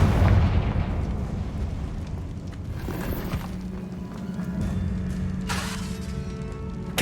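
Confringo fire spell explosions in the video game Hogwarts Legacy, a few booming blasts with crackling debris and shattering over a rumbling combat background, with no talk.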